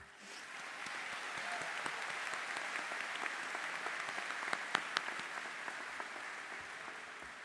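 A crowd at a Marshfield High School graduation ceremony applauds the graduates: steady, even clapping from a large, distant audience that stays level for the whole stretch.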